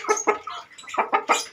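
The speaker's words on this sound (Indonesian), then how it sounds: "sepasang ayam, 1 babon" Several close, short clucks from chickens in a quick irregular sequence, bright and fairly clear against a quiet background.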